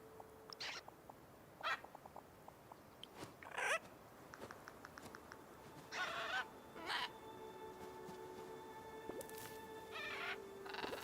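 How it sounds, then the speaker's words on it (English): A bird caws repeatedly in the island farming game Luma Island, short harsh calls spaced out over a low steady ambient background, moderately close and fairly faint overall. "Yes, I hear you, bird."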